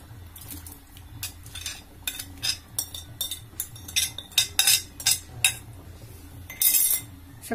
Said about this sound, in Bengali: সবকিছু দিয়ে একত্রে খুব ভালোভাবে একটু নেড়ে চেড়ে দিব